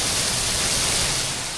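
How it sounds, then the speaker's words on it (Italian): Small hail falling outdoors during a storm in Italy, a dense, steady hiss of tiny pellets striking surfaces that holds at an even level with no voices over it. "È passato alla grandine adesso, piccola."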